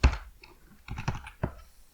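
Computer keyboard keys clatter as code is typed in Python, with irregular bursts of close, crisp clicks and a few louder key thunks between short pauses.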